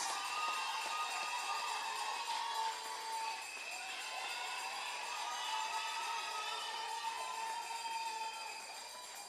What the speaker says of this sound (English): Give him a next round of applause.